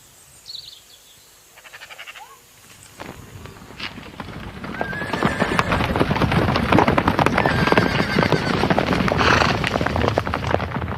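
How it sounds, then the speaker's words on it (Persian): Horse hooves clip-clop steadily on hard ground, building from sparse steps to a dense, loud rhythm, with a horse's neigh rising over the footfalls in a mountain setting. "صدای اسب شنیده"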